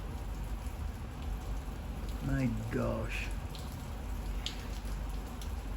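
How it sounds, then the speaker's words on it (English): Heavy rain pours down steadily as a broad, constant wash throughout, with a man's brief exclamation briefly audible over it midway. "That's a lot of rain."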